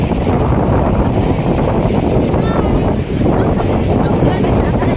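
Strong wind roars steadily across the microphone at Manila Baywalk Dolomite Beach, a constant heavy rush with faint water or surf underneath, with brief voices mixed in.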